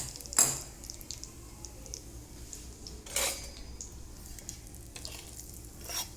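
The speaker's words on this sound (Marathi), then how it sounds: "आता याच्यावर मी या मसाल्यावर गरम गरम तेल टाकते" Hot oil poured over a spice mix of fenugreek and split mustard seeds for green chilli pickle, giving a few short sizzling bursts and light clinks of a pan or spoon separated by quiet gaps.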